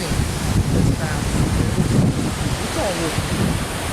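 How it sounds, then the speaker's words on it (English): Floodwater stirred by gusting wind during Hurricane Harvey, a rough continuous wash of water and wind buffeting the microphone, loud and close, with brief faint background sounds. "The water's moving."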